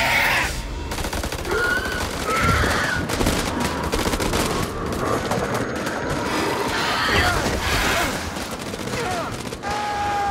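Gunfire from the horror video game House of Ashes: dense, sustained bursts of shots and impacts that fill the scene without a break, mixed with game effects and occasional speech.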